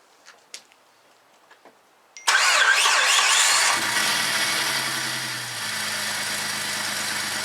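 A Jeep engine starts after a few faint clicks and settles into a steady idle while warming up, a close, continuous rumble that eases slightly in loudness after the first seconds.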